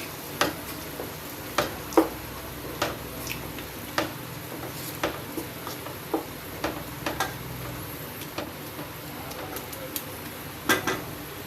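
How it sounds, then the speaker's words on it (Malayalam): Fried ingredients are stirred into a curry in a pan, making a soft continuous sizzle marked by sharp scraping and tapping strokes at an uneven rhythm, close by and moderately loud. "ഇളക്കി യോജിപ്പിക്കുക."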